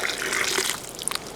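Water is poured from a small bucket into a container of potting mix while dahlia tubers are being pre-planted indoors, a brief splashing gush that stays fairly close and loud, then trails off into a few drips.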